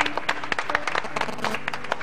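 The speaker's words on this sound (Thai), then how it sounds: "ขอเสียงปรบมือให้2คนนี้ด้วยนะครับ" Scattered, moderately loud clapping rises from the studio audience at Academy Fantasia season 9 for two performers leaving the stage. The individual claps are distinct, with some voices and music in the background.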